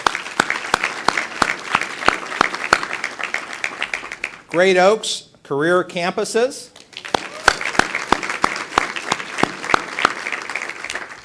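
Sustained audience applause at the 2011 ATHENA Awards ceremony for the event sponsors, crisp rapid claps that continue before and after a short announcement spoken over a microphone in the middle.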